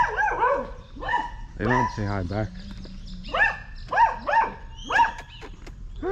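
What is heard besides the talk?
dog barking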